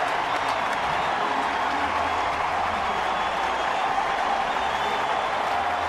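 A ballpark crowd salutes Matt Cain after his perfect game with sustained, loud applause and cheering, a dense wash of clapping and roar that stays constant for several seconds with no break.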